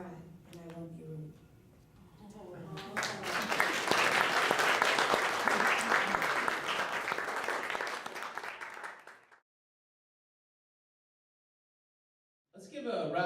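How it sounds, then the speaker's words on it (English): Applause from a high school poetry awards audience swells after a few seconds of talk, holds as dense steady clapping for several seconds, then stops abruptly into silence before a voice returns. "Let's give a round of applause from the Browning School, Julian Orillac"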